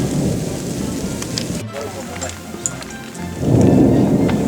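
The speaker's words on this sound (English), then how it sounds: "Yes, that is lightning you're hearing, and raindrops." Thunder rumbles and rain patters steadily outdoors in Sardinia, a loud low roll swelling at the start and again near the end over constant drops falling on the ground.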